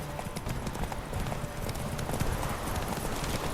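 A horse gallops steadily in The Witcher 3, with continuous rapid hoofbeats over a dense, busy background and no break in the rhythm.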